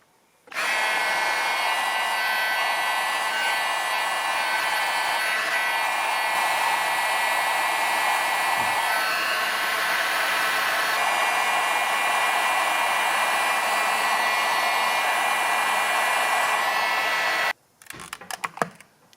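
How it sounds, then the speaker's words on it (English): A heat gun sits on a plastic motorcycle switch part during restoration, blowing hot air as a loud, steady, unbroken roar for about seventeen seconds before it cuts off abruptly, followed by a few faint clicks and handling noises. "When you set your heat gun down on top of one of the parts that you want to fix, it'll do this."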